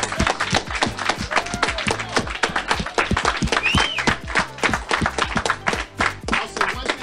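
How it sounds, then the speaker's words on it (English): A seminar audience at a real estate foreclosure training breaks into dense, continuous clapping, many hands patting at once in a busy, uneven rattle that stays loud throughout the stretch. "So let's all give him a round of applause."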